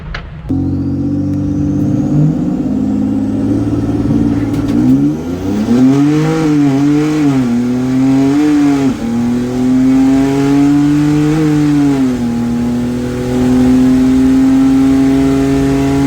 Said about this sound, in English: So I gotta brake boost the shit out of this thing.